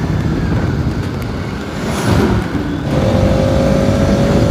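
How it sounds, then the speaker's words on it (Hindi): Yamaha R15 V3 and Bajaj RS200 motorcycles racing through corners, a loud steady engine roar with rising revs and a sustained high whine, close and continuous with no talk. "R15 वर्सेस RS 200 की लग चुकी है रेस"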